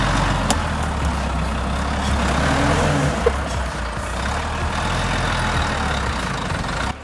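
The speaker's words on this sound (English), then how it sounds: "Up next is a Volvo FH, one of the kings of transportation. This beast is hauling a long, heavy load of logs around a slippery bend." A Volvo FH logging truck hauling a long, heavy load of logs around a slippery, muddy bend, its deep engine drone steady and loud throughout, with a brief hiss near the middle.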